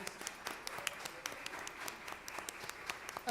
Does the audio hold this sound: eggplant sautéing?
no